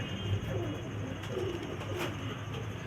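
Banka pigeons, males and females together, coo softly and repeatedly at close range in a steady low murmur, with faint background noise and no talking.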